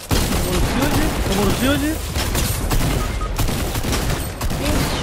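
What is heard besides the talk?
gunfire in the video game Fortnite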